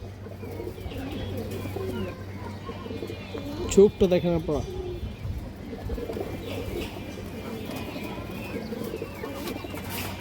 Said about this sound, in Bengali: বড় সাইজের একটা লাল চুল্লি মাদি কবুতর